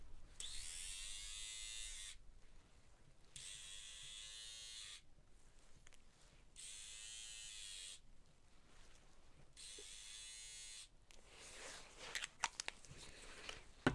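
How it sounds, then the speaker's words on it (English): An electric trimmer buzzes in four close, even bursts of about two seconds each with short pauses between, trimming around the nostrils during a medical exam role-play, then soft handling noises and taps follow. "I need to just do a secondary trim around each nostril."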